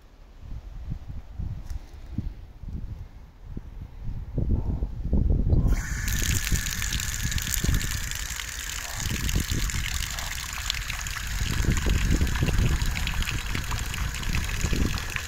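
Water poured into a small bowl set out for magpies in Bathurst, with a steady trickle and gush close by that starts partway through and runs on over low outdoor rumble.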